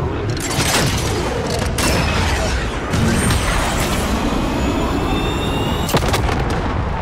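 Artillery strike in Call of Duty Modern Warfare multiplayer: loud, continuous rumbling barrage with repeated booms and gunfire crackle, a sharp blast near the end, no talk.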